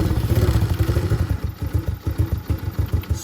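A Venom Grizzly 125cc ATV engine idles low just after a quarter-turn idle screw adjustment, giving a steady, rapid, slightly uneven putter close by with no talk.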